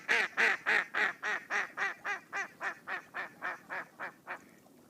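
A mallard duck gives a descending series of about fifteen loud, raspy quacks in an even rhythm, each slightly softer than the last, close and clear with no other sounds.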